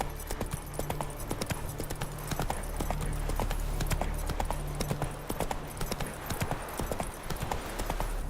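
Horse hooves gallop in a steady clip-clop rhythm through The Witcher 3, loud and continuous over a low drone of game music, with a brief whinny-like tone possible.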